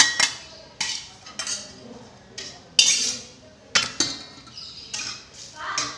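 Metal utensils scrape and clink against a pan while anchovies fry, with irregular sharp knocks and clatters standing out over a faint sizzle, close up.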